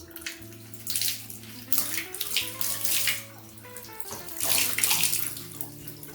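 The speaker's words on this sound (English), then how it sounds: "And I'm just going to wet my sponge." A kitchen faucet runs steadily while a sponge is wetted under the stream, the water rushing and splashing continuously with a low steady hum beneath it.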